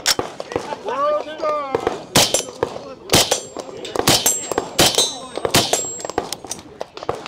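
An AR-style rifle fires at an outdoor shooting range, several sharp, loud cracks in irregular succession with metallic ringing, while people talk between shots.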